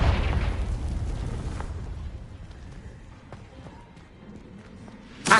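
A blasting-spell explosion from the Hogwarts Legacy video game bursts loudly at the start, then rumbles and fades into a low, debris-like tail before a short sharp hit at the very end.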